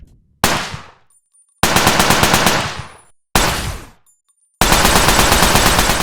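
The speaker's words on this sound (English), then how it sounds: "The weapons also get a lasery sound and a blue muzzle flash." Upgraded PPSh submachine gun in the zombie shooter Dead From Beyond, its fire given a laser-like tone: four loud, close sustained automatic bursts separated by short silences, with no talk.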